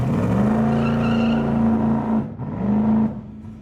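A 1964 Ford Fairlane Thunderbolt with a 427 V8 drones at a steady, loud pitch, then briefly lets off before the engine note rises again, heard alone without talk.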